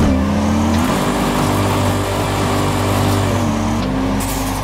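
A video game car engine under light acceleration, a loud steady engine drone whose pitch rises slightly, holds, dips briefly and climbs again.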